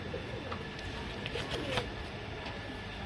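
A sabja breed pigeon pair gives soft, low cooing close by against a steady background hiss, with a few brief clicks scattered through.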